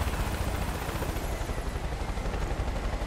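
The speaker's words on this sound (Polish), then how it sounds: "Ej, helikopter ten. Weźmy, będzie szybciej tym." A helicopter in the video game Far Cry 5 makes a loud, steady rotor thrum with broadband roar throughout, close and unbroken, with no speech.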